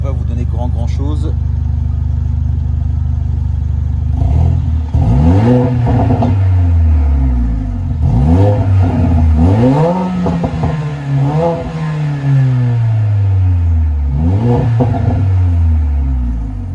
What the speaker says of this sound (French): Je vais essayer d'accélérer un petit peu pour vous donner un petit peu le bruit que ça peut faire.